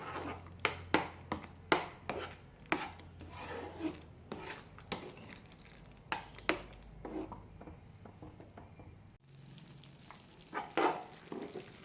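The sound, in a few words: stirring cornflour halwa in ghee in a pan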